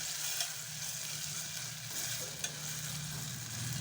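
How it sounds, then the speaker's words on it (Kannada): Tomato sambar cooking in a pot, a soft steady bubbling hiss with a faint scrape or two, close and unaccompanied by talk. "ಇದು ಹಣ್ಣಾಗೋವರೆಗೂ ಕುದಿಸ್ಬೇಕ್ರಿ ನೀವು."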